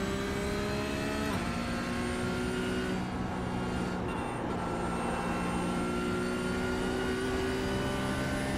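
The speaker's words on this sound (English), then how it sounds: "Sometimes you need a drink and just bash the rev limiter, it's fine." Porsche Cup car engine in the iRacing sim at the Nürburgring 24h, held at a steady high-pitched drone against the rev limiter, with a brief dip in pitch early on before it climbs again, loud and continuous with no talk.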